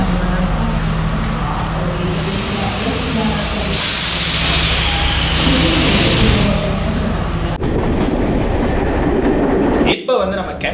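Train ride from Kandy to Ella in Sri Lanka, heard from inside a carriage as a loud, steady rumble and rattle with running wind noise. Voices are faintly present, and the sound shifts abruptly near the end.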